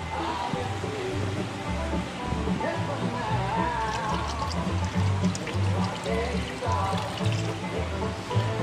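Nutrient solution is poured into an aeroponics reservoir, giving a continuous close splashing and trickling of liquid that runs steadily throughout with no one speaking.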